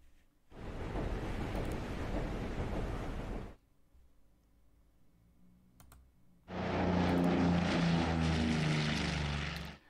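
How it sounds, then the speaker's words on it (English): Kingfisher spotter planes in the naval strategy game Order of Battle, set in the Coral Sea: a loud, steady propeller-engine drone lasts about three seconds, drops to a faint hum with light clicks, then swells back louder and holds. "So I guess these Kingfishers are just my spotter planes."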